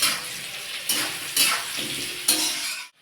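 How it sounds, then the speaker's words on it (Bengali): Potatoes frying in a pan with salt and turmeric, a continuous close sizzle with several bursts of louder crackling as the pieces are stirred, fading out at the end. "আলুটাকেও একটু ভেজে নেব।"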